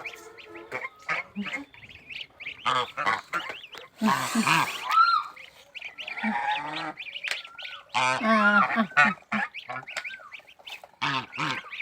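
Two young goslings call in repeated high, wavering peeps and honks, close by while grazing on grass, coming in irregular bursts with short pauses between them.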